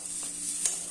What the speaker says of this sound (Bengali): দেখো লঙ্কা ভাজা দিচ্ছি ভাই।